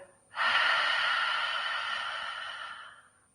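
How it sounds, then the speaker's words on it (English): A single long breath drawn in through the nose during a children's yoga class, steady and fairly loud for nearly three seconds before fading; no talking. "we're going to sniff it 3 times"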